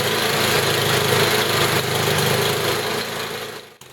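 A Tecumseh small engine runs steadily and loud during carburetor adjustment, a continuous mower-like drone that briefly dips near the end.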